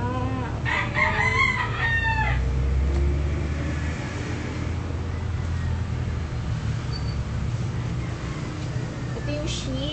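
A rooster crows, probably from a toy or phone app, over a steady background hum, followed by a few clucking notes and faint voices further along.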